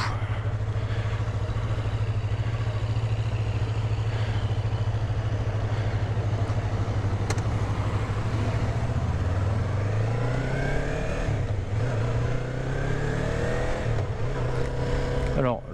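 A Yamaha MT-03 motorcycle engine thrums steadily up close, then its pitch rises and dips as it accelerates, with a voice talking over it at times.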